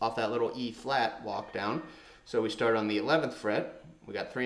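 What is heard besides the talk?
No everyday noises stand out.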